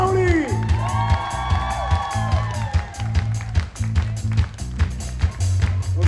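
An open-air concert crowd claps and cheers loudly over a pounding band groove, whoops rising above the steady rhythmic beat.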